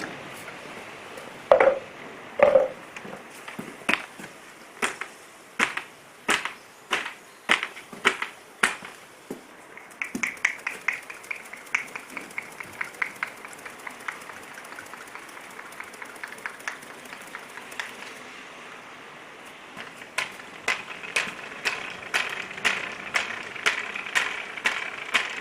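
Paint brushes and rollers are spun clean after washing, giving a long series of sharp, rapid rattling and flicking bursts, some in quick rhythmic runs, close by and alone.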